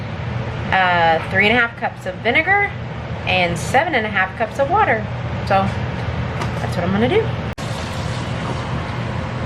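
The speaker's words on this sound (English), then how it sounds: "I know it's loud in here and y'all can hear the AC" Indoor air conditioner running on a hot day, a steady low hum and broadband whoosh filling the room throughout while someone speaks over it.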